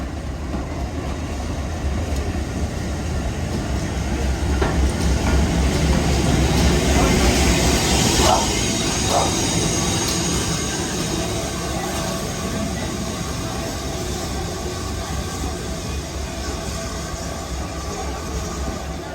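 Betton Grange steam locomotive running at Weybourne Station on a heritage line, a steady broad rumble and hiss of the engine and carriages rolling close by, loudest near the middle with a couple of brief squeal-like accents.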